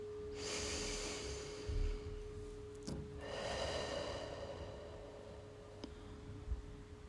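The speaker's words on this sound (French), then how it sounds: "et de prendre une profonde respiration." One slow, deep breath taken close and quietly during a grounding meditation: a long soft inhale, a brief pause, then a longer airy exhale, with faint ticks in the quiet room.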